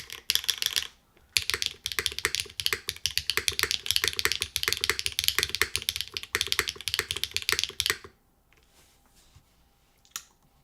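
Steady rapid typing on an Infinite 70 mechanical keyboard with an M3 spacebar, dense clacky keystrokes close up for about eight seconds, then stopping to near silence with a single faint tap near the end.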